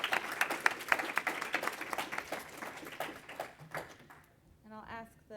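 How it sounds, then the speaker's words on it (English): An audience gives a speaker named Tamsen a round of applause at the end of a talk on technology and leadership: dense, steady clapping for about four seconds that thins out and fades before a voice speaks. "I think we can give Tamsen a round of applause"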